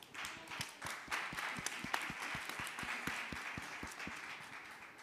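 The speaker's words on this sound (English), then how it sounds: "Ladies and gentlemen, please welcome them with a big round of applause." An audience at an international seminar on carbon neutrality and energy policy claps in warm, sustained applause that fills the hall, with individual claps audible and steady throughout, heard alone.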